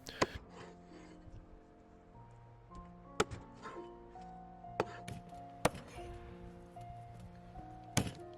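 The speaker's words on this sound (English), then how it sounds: "Separate the legs and chop the body like so." Cleaver chopping a rabbit body into stewing pieces, several sharp, close thunks at irregular intervals, alone over quiet room tone.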